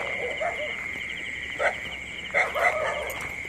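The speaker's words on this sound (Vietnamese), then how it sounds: "ở đây có một cái trại nuôi cá chó sủa quá trời" Dogs at a fish farm bark in short bursts from a moderate distance, a few yelps rising over a steady insect-like hum that runs throughout.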